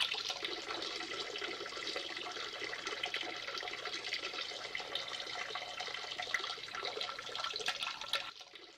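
Tap water runs in a steady, close, unbroken gush while something is washed under it, lasting about eight seconds before cutting off abruptly near the end.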